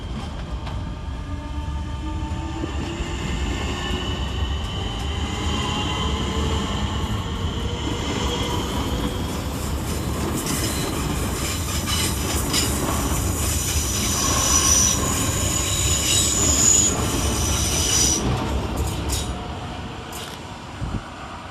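Southeastern class 466 and 465 electric units 466007, 465166 and 465184 pull out of London Waterloo East on the Charing Cross to Hayes service, a steady loud rumble with high metallic wheel squeals rising near the end, no voices.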